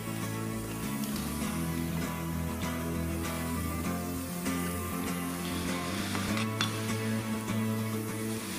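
Vegetables sizzle steadily as they toast in a very hot pan for a broth, with occasional clinks of a utensil against the pan over a constant frying hiss.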